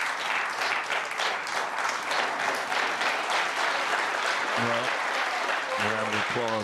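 A snooker crowd at the Tour Championship final claps steadily throughout, a dense sustained round of applause, while a commentator's voice comes in briefly near the end.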